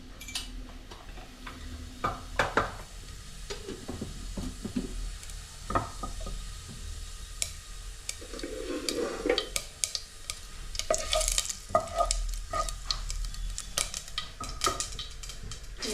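Mustard and cumin seeds sizzle and crackle in hot oil, mixed with close spoon stirring, scraping and light clinks of a metal pan, steady and fairly loud with no talking.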